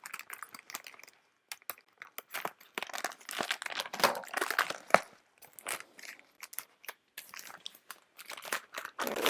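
Scissors cutting open a cardboard book mailer package, close crinkling, crunching and snipping in irregular bursts with short pauses.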